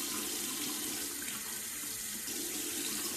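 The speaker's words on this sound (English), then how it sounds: "So now we're gonna get some hot water" Hot water runs steadily from a tap into a sink, a continuous close splashing hiss that holds even and unbroken throughout.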